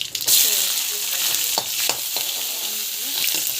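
Chana dal and ginger garlic paste sautéing in hot oil for a simple afternoon lunch, a steady close sizzle with a few scraping stirs of the spoon, no voices.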